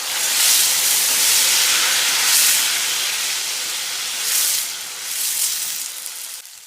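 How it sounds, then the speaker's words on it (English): Garden egg frying in hot oil makes a loud, steady sizzling hiss that swells and eases slightly and then cuts off abruptly at the end. "garden egg goes in. And now the oil is hot."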